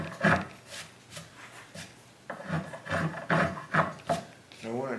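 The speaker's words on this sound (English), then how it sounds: "I want to try and get as many of those router lines planed down as much as possible before I go to sanding." Hand plane shaving down router lines on a wood carving, a series of rasping strokes in uneven rhythm, close and moderately loud, with some brief voice sounds between passes.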